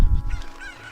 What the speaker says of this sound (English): I'm actually gotta take all the chickens and throw them behind the counter there.